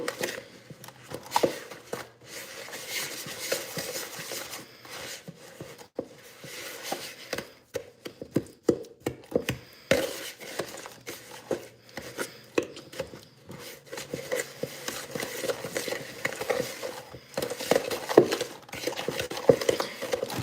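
A regular spoon scraping and knocking against a bowl while butter is mashed and mixed until creamy, giving a steady run of soft, close clicks and scrapes for about twenty seconds.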